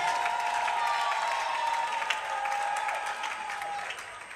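A crowd at a church worship celebration claps steadily and loudly, with cheering and a sustained vocal tone over the dense applause, fading slightly toward the end.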